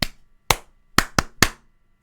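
Five sharp, close claps from a concert audience in a fixed pattern, a single clap, a pause, then a quick burst of four, used as a signal to draw the singer's attention; the hall is quiet between the claps.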